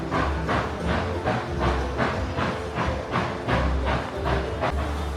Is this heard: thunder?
no